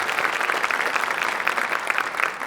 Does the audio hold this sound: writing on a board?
no